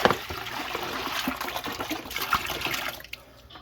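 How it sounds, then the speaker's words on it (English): Sweet apple cider pouring from a big bottle into a brewing vessel, a continuous splashing gush of liquid that runs steadily and then tapers off near the end. "She's going to pour in, what is it? Apple cider. Sweet apple cider."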